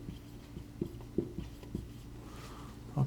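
Pen writing the word depreciation on paper, a few short scratchy strokes close by and fairly quiet over a low background hum, with no talking.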